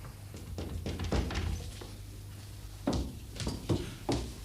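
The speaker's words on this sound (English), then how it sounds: "If I'd wanted the door shut, I'd have shut it." A door is pushed shut indoors with a series of soft thunks and taps, a few muffled knocks at the start and then several firmer closing bumps later on, fairly close, with no one speaking.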